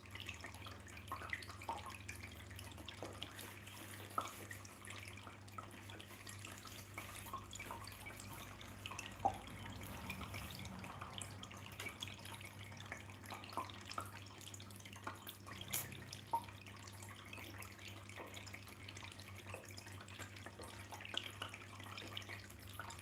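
Fast-running water from a tap flows steadily and fairly faint for the whole stretch, with a constant hum underneath and a few small drips and clinks.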